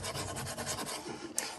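Glued paper being pressed and rubbed down for a Christmas ephemera piece gives a close, steady scraping rasp lasting under two seconds, with one faint tick near the end.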